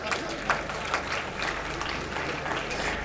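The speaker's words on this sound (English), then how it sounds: "the host governor, as they end, would deserve some claps" A conference audience at a county climate change meeting claps for the host governor, steady dense applause throughout with a few louder individual claps.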